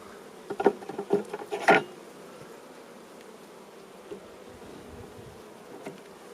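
Honey bees buzz softly over a hive frame, a faint close hum with a cluster of brief clicks and taps near the start, then a low steady drone.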